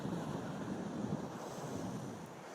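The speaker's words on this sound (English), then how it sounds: "And here's the beach." Surf washes steadily onto Steamers Beach in Booderee National Park, a continuous distant roar of breaking waves mixed with wind buffeting the microphone, with no voices.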